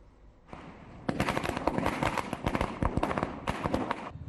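Firecrackers bursting at a Congress party workers' street celebration in Donapal Nagar Panchayat, a dense rapid crackle of sharp pops in irregular bursts, loud and close, after a brief quieter start.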